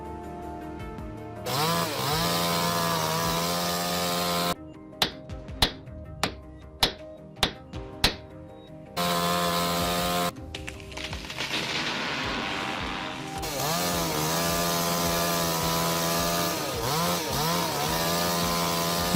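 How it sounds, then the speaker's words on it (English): A steel chainsaw cuts through a large oak log, the engine roaring loudly, broken midway by a run of sharp knocks and thuds, then picking back up into a sustained, wavering whine through the cut. "He was impressed to see the steel chainsaw easily handle a large oak log."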